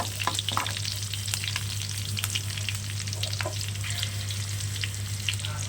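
Dried red chillies and green chillies frying in oil in a pan for a bottle gourd peel fry, a dense close sizzle with frequent crackling pops over a low steady hum, no speech.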